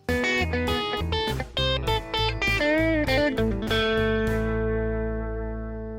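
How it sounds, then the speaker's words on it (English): Electric guitar with effects playing a quick run of snappy, percussive chicken-picking notes, middle and ring fingers snapping strings for a clucking sound, then a sustained chord ringing out and slowly fading. "uses the middle and ring fingers to pluck and snap other strings to make a clucking sound"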